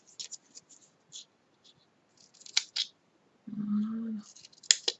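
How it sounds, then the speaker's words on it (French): Scissors snip paper pieces at an angle for a handmade CD/DVD sleeve, with a string of short, crisp cuts and scrapes close up and a brief low rubbing sound midway, with no talk. "moi je vais couper mes morceaux en biseau"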